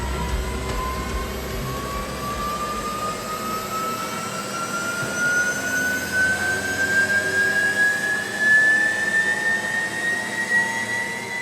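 Porsche Taycan Turbo S electric drive motor running on a factory test bench toward 16,000 RPM under heavy load, a steady loud whine with tones rising slowly in pitch over a constant mechanical roar, no voices.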